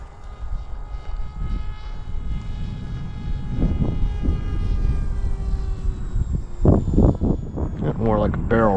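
A 1200mm Giant Wing RC electric plane on 4S power flying a loop, its propeller whine drifting and shifting in pitch under gusty wind, with someone talking over the last few seconds.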